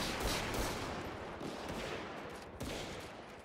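Gunfire rattles through a multiplayer shooter match, dense overlapping shots at moderate loudness with a few sharper bursts standing out, no voices over it.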